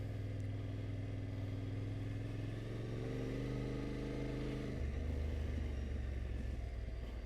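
A Yamaha Tenere 700 motorcycle riding a green lane, its engine droning steadily and loudly with a rising rev that drops back and then settles into a lower hum, no talking.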